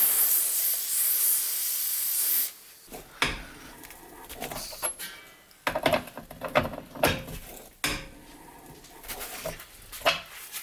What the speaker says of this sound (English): so I'm going to spray it a little bit more